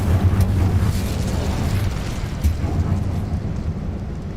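Incendio fire spell in a wizard video game bursts with a rumbling, roaring whoosh over continuous low game noise, with a second thump partway through.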